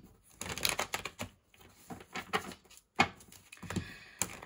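Tarot cards are handled and drawn for a reading, with close, crisp shuffling, snapping and tapping sounds in irregular bursts and short pauses, without talk.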